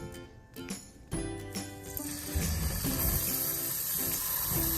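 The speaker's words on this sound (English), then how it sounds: "what we're gonna do first is we're gonna rinse and drain our bulgur" Water runs from a kitchen tap while bulgur is rinsed, starting with a few clinks and taps, then rising into a steady loud rushing splash that fills the rest of the moment.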